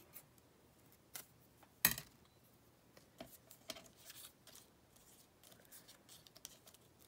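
Scissors trim a paper craft board made from playing cards, with soft snips and a sharper cut, quiet and close, among light paper rustling.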